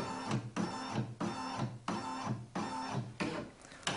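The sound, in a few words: Brother embroidery machine moving frame to scan fabric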